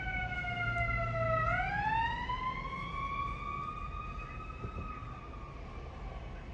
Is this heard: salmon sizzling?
no